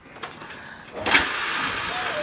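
A motorcycle is kick-started, with a short mechanical clunk of the kick followed by the engine catching and running with a loud, steady close-up drone.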